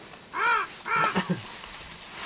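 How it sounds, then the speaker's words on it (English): Two loud, harsh crow caws in quick succession, close by, followed by a short lower croak and quiet background. "Oh, the crows are coming down."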